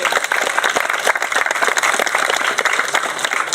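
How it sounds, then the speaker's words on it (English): Audience applauding at a county fair's outstanding senior ceremony, dense sustained clapping from many hands filling the room at close range. "So let's give a round of applause to Rick Julian."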